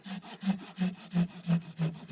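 A special Japanese-made saw cuts through apple wood during grafting in an orchard, making close, rhythmic rasping strokes at roughly three per second, each with a gritty scrape, and no voices.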